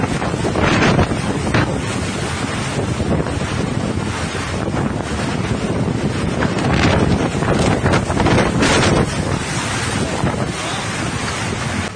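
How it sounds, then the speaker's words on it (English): Hurricane-force wind gusts from Hurricane Roslyn roar steadily across the Pacific coast of Mexico in Nayarit, a loud, continuous broadband rush with surging peaks, buffeting against the microphone. "Hurricane Roslyn approached the Pacific coast of Mexico. Wind gusts reached 250 km per hour."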